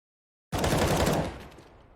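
A rapid burst of gunfire from a Counter-Strike match, one sharp, loud volley of shots starting abruptly after a short silence and tailing off.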